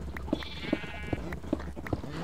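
Sheep bleat in the Minecraft video game, a run of five short, evenly spaced bleats at moderate volume over quiet background hum.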